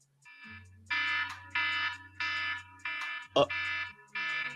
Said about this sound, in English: it's the default alarm sound on an iPhone